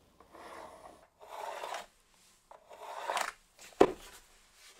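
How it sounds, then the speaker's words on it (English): A pencil is drawn along a straight edge across a piece of wood while making a mallet by hand: four separate scratchy rubbing strokes with short pauses between them, close and quiet, ending in a sharper tap. "I can get a straight edge onto the mark I've made and then onto the corner at the other end and get a line drawn."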